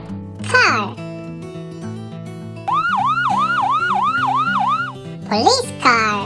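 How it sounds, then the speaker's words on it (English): A police car siren wails in a fast, repeating rise-and-fall pattern for several seconds, loud and close, with a voice speaking briefly before and after it over light background music. "police car,"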